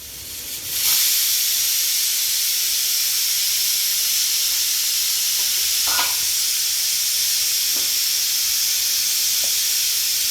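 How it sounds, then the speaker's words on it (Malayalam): A pressure cooker releases steam in a loud, sustained hissing whistle that starts abruptly and continues steadily, with faint clinks in the background. "ആ ശബ്ദം ഇതാണ്. ശബ്ദം കുക്കറിൻ്റെ വിസിലടിച്ചത്"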